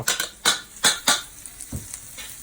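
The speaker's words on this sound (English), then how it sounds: "Okay, flip that. Sounds like it's burning." A few sharp scraping clatters of a utensil in a hot pan of pork chops, with a faint sizzle of burning food running beneath and quieter scrapes trailing off.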